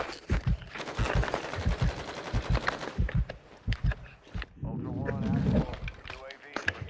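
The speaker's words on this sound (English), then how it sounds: "someone's shooting. Oh, it's... yeah. oh, he got me too. It's a sniper, man." Gunfire in the shooter Call of Duty DMZ, a string of sharp cracking shots spread across the clip, mixed under excited players talking over one another.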